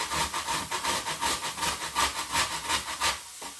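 Frozen ginger grated on a kitchen grater, a steady rhythmic rasping in quick even strokes, close and moderately loud, stopping near the end.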